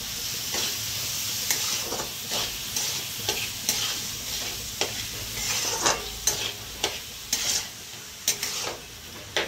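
Chopped onion and tomato tossed into a hot pan for masala dosa filling, sizzling and hissing while a spatula scrapes and clacks against the pan in quick irregular strokes, close and clear, no voices.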